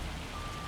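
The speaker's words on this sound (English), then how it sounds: "So the rain has just literally turned to sleet" Steady hiss of rain turning to sleet in the Farming Simulator 25 game, a dense, even patter across the whole short stretch, moderately quiet with no voices.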